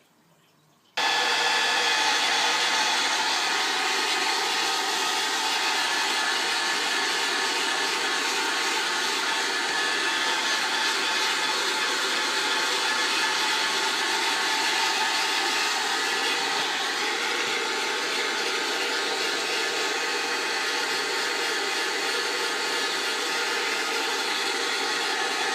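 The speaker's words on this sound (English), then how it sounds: "I'm just going to go get my hairdryer and I'm going to dry it off as best I can" A hair dryer blows steadily on small animal bedding, switching on abruptly and then running loud and unbroken with a constant whooshing hum.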